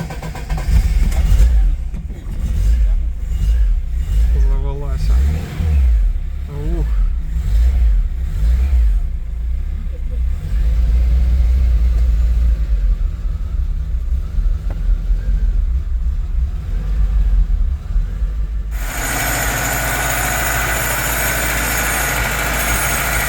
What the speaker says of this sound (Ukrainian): завівся він з першого разу. Зараз покажу, як це відбулося. Перший пуск, да.